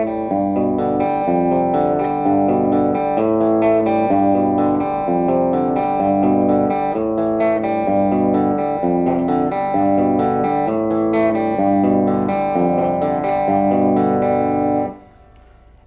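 Guitar plays the main riff of a song using open strings, sounding as a continuous, dense run of sustained notes in a steady pattern that fills the space, close and loud with no voices, before stopping abruptly at the end.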